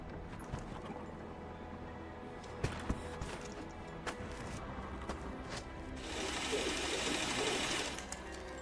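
Rise of the Tomb Raider game audio of a ratchet mechanism being cranked, with repeated mechanical clicking and wooden creaks over a steady background. A louder rushing surge of noise builds near the end.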